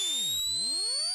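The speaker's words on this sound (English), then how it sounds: "This is literally just like a few sine waves that are going up in pitch." A dubstep sample built from a few stacked sine waves sweeps upward in pitch. High tones climb steadily while lower ones curve in and out, forming a loud, synthetic rising whoop about a second long with no voice.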